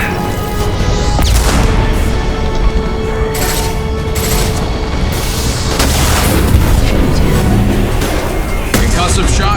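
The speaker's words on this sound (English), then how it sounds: "Watch out, flashbang!" In Mass Effect 2 Legendary Edition, during Lair of the Shadow Broker, a flashbang grenade goes off with loud booms amid ongoing combat noise and voices.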